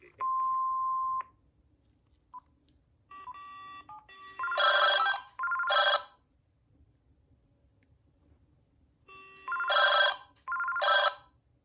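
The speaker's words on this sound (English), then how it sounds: "Those ringers sound kind of comical when they're turned all the way up and on a double ring like that" A DECT 6 cordless phone rings at full volume with a double-ring pattern: paired bursts of bright, warbling electronic tone repeat twice, preceded by a steady beep and a few short chirps, with near silence between rings.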